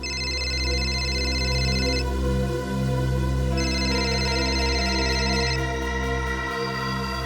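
A telephone rings in bursts of electronic tone, stopping and starting again, loud and close over a steady low background hum, with no one talking.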